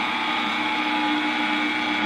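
An electric stand mixer whirs steadily at a raised speed while beating pound cake batter with cake flour, a loud, even motor drone close by with no talking.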